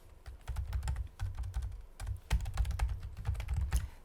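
Steady typing on a computer keyboard while entering a new folder name for photo storage: rapid clusters of close, crisp key taps in short bursts with brief pauses, heard alone without voices.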